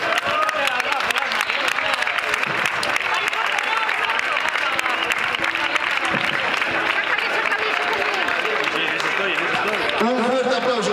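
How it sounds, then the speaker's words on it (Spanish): Crowd applause at the awards for a long-route mountain bike marathon in Duruelo de la Sierra, honoring the women's category winner: dense, steady clapping fills the whole stretch, with voices and crowd chatter mixed underneath. "Un fuerte aplauso para ella."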